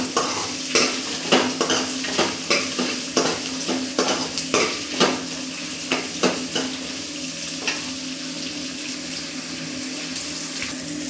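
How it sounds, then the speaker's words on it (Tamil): Small shallots and cumin sautéing in a pan, a steady frying sizzle broken by repeated scraping stirs at an uneven rhythm, close and moderately loud, with a low hum underneath. "இந்த வெங்காயம் கொஞ்சம் நல்லா வதங்கணும்."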